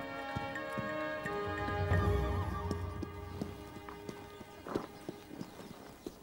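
Wild horses in Mongolia, hooves clip-clopping at an uneven pace, a nearby snort or whinny midway and a low rumble of movement, fairly close and moderately loud.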